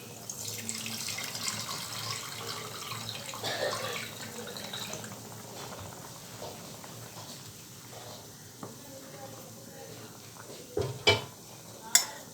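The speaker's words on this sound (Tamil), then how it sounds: "இப்போ அரிசியிலேருந்து தண்ணி வடிச்சுக்கலாம்." Water drains from soaked basmati rice in a kitchen: a faint, continuous trickling pour for several seconds, then a few sharp clanks of a pot or vessel near the end.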